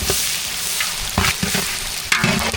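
Ginger garlic paste with green chillies is sautéed in a pan, with a continuous sizzle broken by several sharp scraping strokes of a spoon stirring against the pan.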